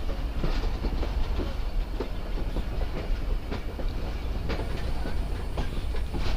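The Mohen Jo Daro Express, a long-rake passenger train crossing the Sindh countryside, rolls steadily along the rails with a continuous loud rumble and a regular clickety-clack of wheels over rail joints, no voices.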